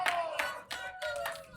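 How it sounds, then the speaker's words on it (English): A crowd at a candlepin bowling center applauds a spare, brief bursts of clapping and cheering that come and go in uneven waves, moderately loud. "Thunderous crowd response to that spare for Faye Sawyer."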